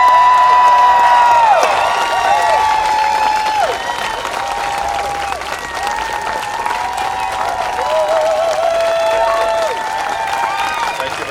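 An audience at a flag-raising ceremony applauds and cheers to welcome Ottawa mayor Jim Watson, sustained clapping and whoops filling the whole stretch, with scattered voices and a bright tonal ringing sound over the crowd.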